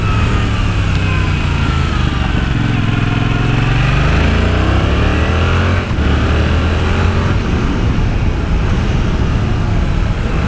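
A Yamaha R7 sports bike in its restricted 35 kW A2 version, with a two-cylinder engine, drones loudly and continuously while being ridden on back roads, its pitch rising and falling through gear changes under wind rush.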